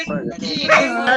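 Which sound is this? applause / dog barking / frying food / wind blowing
dog barking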